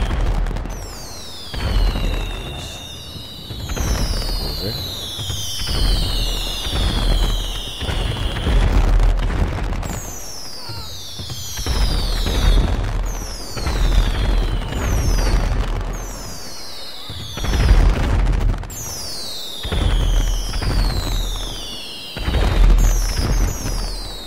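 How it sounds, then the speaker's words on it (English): Outdoor Fourth of July fireworks go off in repeated bursts, each a sharp bang followed by crackling and whistling trails, coming in irregular clusters over a loud, continuous backdrop. "the fireworks started already"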